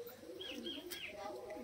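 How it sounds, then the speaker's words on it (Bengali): A male Giribaz pigeon coos softly in a loft in Haldia. Low, rolling coos repeat across the moment, with faint chirps and a quiet voice in the background. "এটা নর পায়রা, তাই তো?"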